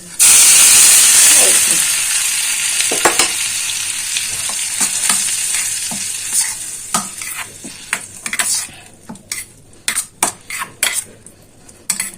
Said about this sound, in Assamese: এতিয়া এই চাটনিখিনি যে বনাই ৰাখিছিলো জলকীয়া, মই ইয়াতে দি দিম